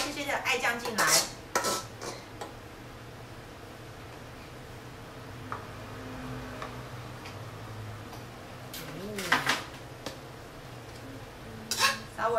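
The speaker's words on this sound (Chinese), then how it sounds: "好，稍微把它翻炒一下哦。" Oysters are stir-fried with bean sauce in a pan, heard as scattered clinks and scraping taps of a utensil against the pan over a soft background hiss, with brief busier clusters.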